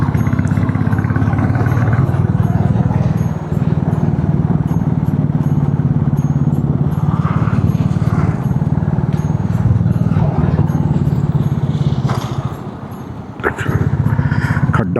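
A motorcycle ridden over a badly potholed road near Chohal Dam in Punjab, its engine droning loudly and steadily throughout, with rumbles and clatter from rough surface bumps and wind noise.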